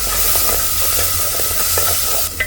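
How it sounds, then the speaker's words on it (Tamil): Ground tomato paste hits onions frying in oil, giving a loud, steady hiss and sizzle with a few faint stirring scrapes, and no talking. "இப்போ இதில் 2 தக்காளி மிக்சியில் பேஸ்ட்டு அரைச்சி அதையும் சேர்த்துக்கிறேன்"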